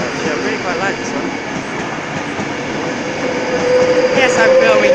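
A Class 390 Pendolino train bound for London Euston passes close by with a steady rushing roar and rail noise, swelling louder toward the end, with a faint wheel squeal.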